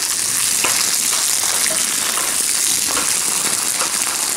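Water sprays steadily onto banana plants beside a piggery, a loud, bright, continuous hiss with faint irregular spatters, running unbroken and without any voices.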